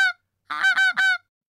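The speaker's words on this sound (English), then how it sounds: "Goose" A goose honks on a farm: one clipped call, a pause, then three loud, nasal honks in quick succession, close and clear with no other sounds.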